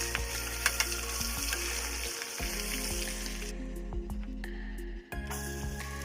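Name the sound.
chicken breast frying and basting in oil and butter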